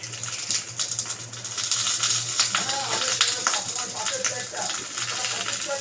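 Oil sizzles in a pan while chicken paturi is being cooked. The crackle is steady and close, with sharp pops over a low hum, and runs for the whole stretch.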